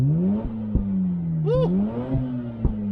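A 231bhp Mazda RX-8 engine revs from the driver's seat of the moving car, a steady mid-pitched drone that swells and dips, with a brief higher rising whine in the middle and a few sharp clunks.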